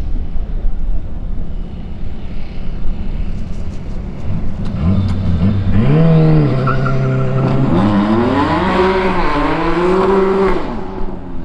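A Porsche biturbo race car at a Full Power drag event roars past at full throttle, its engine note rising and shifting through gears, loud and close, then fading slightly as it moves away, with no talk.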